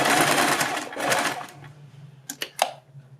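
A sewing machine stitches pleats into a frock, running in a steady burr for about a second and a half before stopping, followed by a few short clicks and a faint low hum.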